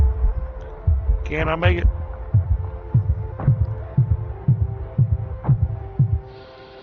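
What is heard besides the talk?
heartbeat growing loud in Astroneer video game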